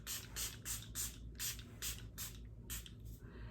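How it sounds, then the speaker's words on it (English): Catrice Prime and Fine Illuminating Dewy Fixing Spray misted in a series of about seven short, close, hissy spritzes at a steady rhythm, with no voices. "this is the Catrice Prime and Fine Illuminating Dewy Fixing Spray"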